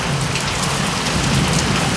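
Heavy rain pours down steadily over a village in Ranebennur taluk, Haveri, a dense, even hiss of drops striking surfaces that stays loud and unbroken, with no talking.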